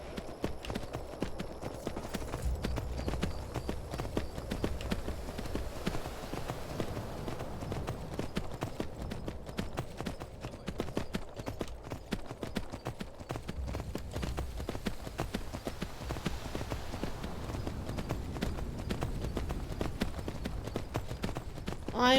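Horse hooves galloping in the video game Skyrim around Helgen, a continuous quick clip-clop rhythm at moderate level that runs the whole time without talk.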